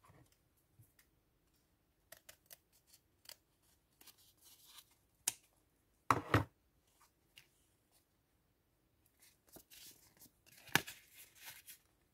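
Paper being cut with scissors for a junk journal: sparse, quiet snips and clicks close by, spread across near-silence, with a couple of louder crisp cuts and rustles in between.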